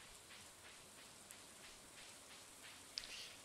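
Soft steady rain from the Stardew Valley farming game, a faint even hiss of falling drops with a few light ticks, quiet and continuous with no talking.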